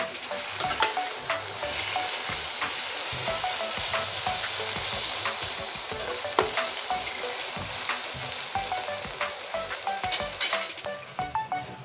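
Taro leaves fry and get stirred in a pan until dry, a steady hiss of sizzling with frequent scraping clicks of the spatula, close and continuous, with no talking.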